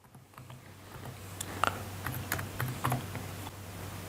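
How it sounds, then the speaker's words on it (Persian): Keystrokes on a computer keyboard as a domain name is typed into a registration field, a light irregular run of close clicks and taps over a low steady hum, with no talking. "من میتونم نامی که من مد نظرم هست رو اینجا تایپ بکنم"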